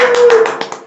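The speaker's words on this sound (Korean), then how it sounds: "자, 박수!" Brief burst of hand clapping from a small group welcoming a guest on an interview show, a few sharp claps over under a second with a faint voice.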